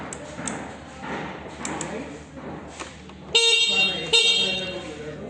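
Horn of a new three-wheeled electric bike sounding in two short, loud electronic toots near the end, after a stretch of low background noise.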